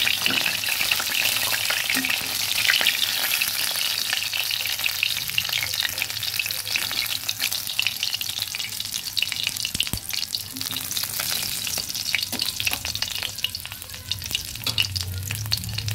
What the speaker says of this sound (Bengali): মাছ ভাজাগুলো হয়ে গেছে, আমি এক এক করে তুলে নেব